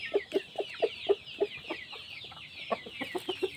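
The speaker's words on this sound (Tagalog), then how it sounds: "yan ang manok natin, oh." Black Australorp and Rhode Island chickens cluck in their coops on a small farm, a series of short, rhythmic clucks fairly close by, repeating every fraction of a second over a bed of fainter bird chatter.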